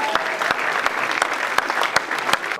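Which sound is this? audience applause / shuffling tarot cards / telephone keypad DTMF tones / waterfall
audience applause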